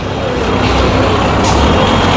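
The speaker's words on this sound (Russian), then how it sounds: "автобус назад сдает" Loud, close road noise from a busy street in India as a bus backs up, a dense engine rumble with an air-brake hiss partway through, and no talk.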